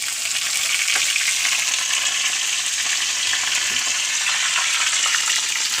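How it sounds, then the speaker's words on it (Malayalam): Onions and curry leaves frying in oil in a clay pot, a dense, steady crackling sizzle with occasional pops and stirring, close and continuous. "ഉള്ളി മുരിഞ്ഞു, വേപ്പിൻ്റെ ഇല ഇടുന്നു"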